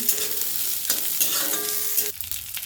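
Peanuts fry in a pan with ginger and green chili, a steady close sizzle with light stirring scrapes that stops abruptly near the end.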